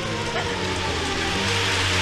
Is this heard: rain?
yes